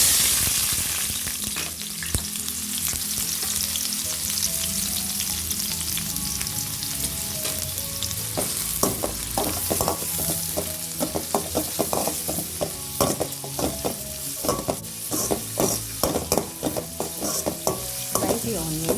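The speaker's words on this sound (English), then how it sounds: "Now the oil is hot, add the chopped onions" Chopped onions sizzle steadily in hot oil, with a spoon stirring and scraping the pan in repeated clatters that grow busier toward the end.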